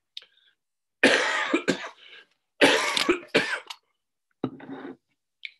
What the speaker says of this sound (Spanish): Me oyen toser aquí, dicen, el pobre ese se está ahogando